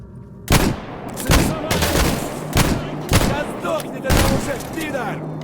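Bursts of gunfire from S.T.A.L.K.E.R. GAMMA, six loud shots spaced roughly a second apart over a steady background of rumbling ambience, with a voice talking faintly underneath.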